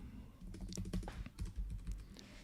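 Keys clatter on a computer keyboard in a quick, uneven burst of soft clicks, close and fairly quiet, with no voices.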